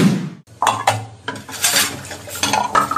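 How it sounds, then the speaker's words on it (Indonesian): Dishes are washed with steady clattering of plates, pots and cutlery, scraping and clinking close by, with no voices. "itu dia lagi cuci piring."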